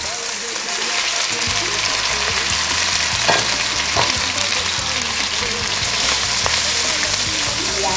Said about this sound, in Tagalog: Magigisa siya ng pork belly.